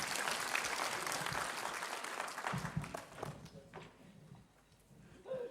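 A crowd at a memorial life celebration gives a burst of loud, sustained clapping that fades after a few seconds into scattered claps and murmuring.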